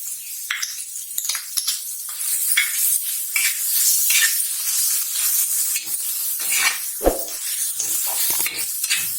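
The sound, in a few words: ginger-garlic paste added to hot pan for egg bhurji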